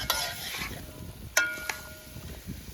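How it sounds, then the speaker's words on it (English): Soft sizzle of onions sautéing in a pan, with a couple of sharp metallic clinks of a utensil against the pan. "Just saute that down until our onions are nice and translucent."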